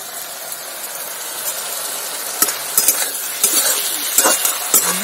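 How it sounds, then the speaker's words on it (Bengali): Greens fry outdoors on a clay stove with a steady sizzle, and a spatula scrapes and stirs against the pan in sharp irregular clacks that grow busier toward the end. "এদিকে আমাদের বাইরে রান্না হচ্ছে, উনানে দিয়েছে শাক ভাজা"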